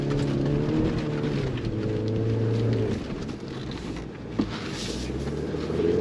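A 2023 Chevrolet Colorado ZR2 midsize truck drives on throttle through sand, its engine droning steadily while churning loose sand hisses beneath, with wind buffeting the microphone and a small thump partway through.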